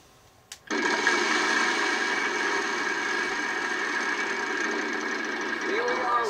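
A game-show prize wheel spinning in a Wheel of Fortune game, a loud steady whirring rattle that starts abruptly after a brief knock and runs continuously to the end.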